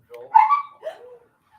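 A dog gives a short whimpering yelp followed by a second softer whine, close and brief, against an otherwise quiet background.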